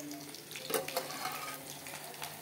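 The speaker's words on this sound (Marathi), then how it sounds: "इथे आई आता भेंडीची भाजी करत आहे माझ्यासाठी" Okra being fried in a home kitchen pan for bhendi bhaji, a steady soft sizzle of oil with a few brief clinks or stirring taps, heard close and moderately quiet.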